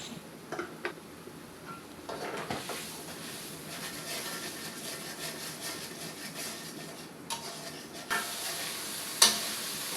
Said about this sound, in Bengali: তারপর আমার মশলা প্রায় ভাজা হয়ে গিয়েছে